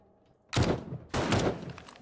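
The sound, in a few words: gunfire in the video game 7 Days to Die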